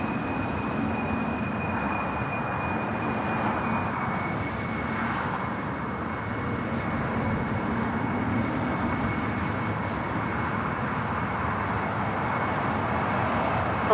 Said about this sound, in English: 767-300ER now on the takeoff roll to Lima, Peru, flight 2479.